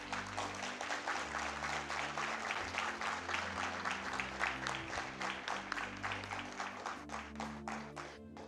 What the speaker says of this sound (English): so I hope you hear the applause on this side of the room